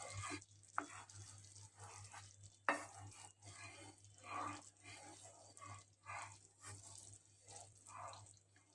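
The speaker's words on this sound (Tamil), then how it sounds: "நம்ம அடி பிடிக்காம கிளறிட்டே இருக்கணும்." Thickening mixed fruit jam is stirred steadily in a pan, giving soft, continuous wet scraping and sloshing at close range over a constant low hum.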